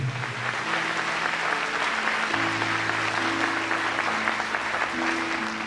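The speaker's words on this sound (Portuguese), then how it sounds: "Dá uma salva de palmas para Jesus" A church congregation claps steadily and loudly for several seconds during a sermon, a dense continuous patter of applause with faint held music tones beneath it.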